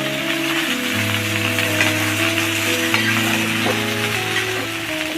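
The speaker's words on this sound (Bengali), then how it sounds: "সবজিটা একটু নেড়ে নিলাম।" Vegetables and dried ribbonfish fried in a pan and stirred: steady loud sizzling with scraping stirs and a sustained tonal hum underneath, no voices.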